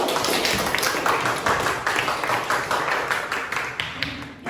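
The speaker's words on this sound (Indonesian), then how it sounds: "Tepuk tangan terlebih dahulu." A classroom of students applauding together, a dense, steady patter of many hands clapping at close range, fading slightly toward the end.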